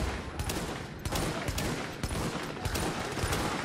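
Rapid bursts of sniper rifle gunfire in The Division crack out in quick succession, loud and close, with dense overlapping shots across the whole stretch.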